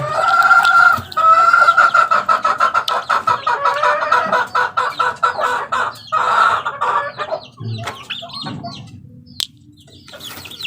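Young chicks being caught and dosed with B12 on a small farm peep and cluck busily, a near, continuous chorus of chirping with brief pauses and a faint rooster-like call among them.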